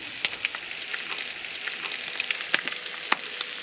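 Bacon, tomato and fried rice sizzling in a pan for a camp breakfast, a steady frying hiss with scattered sharp pops and crackles, close and moderately loud.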